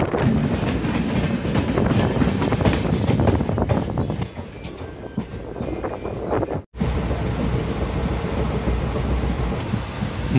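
Continuous rumble and rhythmic rail clatter come from the Danapur Pune Superfast Express moving along the track. One abrupt dropout cuts in partway, then the running noise resumes, steady and loud.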